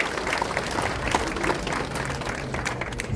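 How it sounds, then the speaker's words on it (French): A crowd at a bridge inauguration applauds the region, producing sustained, dense clapping from many hands that stays steady and fairly loud throughout, with no speech over it. "Un grand bravo aussi à la région, parce qu'on va l'applaudir aussi"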